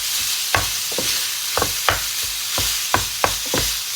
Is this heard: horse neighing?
no